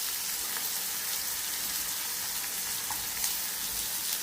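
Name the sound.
onion and chili sautéing in a pan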